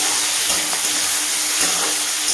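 Tomatoes go into a pan of frying pomfret, and a loud, continuous sizzle and hiss of hot oil fills the whole stretch, with faint stirring scrapes and no voices.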